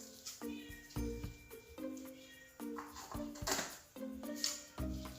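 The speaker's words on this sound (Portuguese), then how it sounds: "vocês estão ouvindo o miado?" A cat meows repeatedly in short, clear, tonal calls with brief gaps between them. It sounds fairly close and stands alone over a quiet background while slime is being made nearby.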